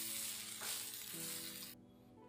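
Leftover rice fries with tomato in a hot pan, giving a close, steady, hissing sizzle that holds evenly and then drops away abruptly near the end.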